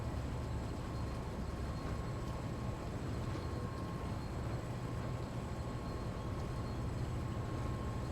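Freight train in Train Sim World 2 running on a UK line, a steady low rumble with a constant hum, heard alone and unchanging throughout.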